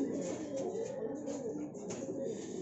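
Young pigeons coo softly at the trapdoor of a loft, a faint, steady low murmur running on without a break.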